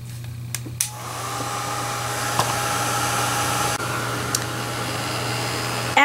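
A heat gun blows a steady, loud whooshing drone while melting UTEE embossing enamel, held at a distance, with a few faint clicks and taps over the constant airflow.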